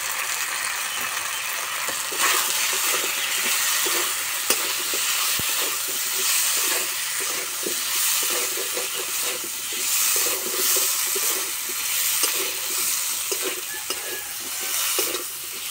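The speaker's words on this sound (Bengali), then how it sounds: "মশলার সঙ্গে আলু কষানো হয়ে গেছে" Potatoes stirred and sautéed with chili and turmeric powder in a pan for a tilapia curry with raw banana, steady close sizzling with scraping stir strokes throughout, no voices.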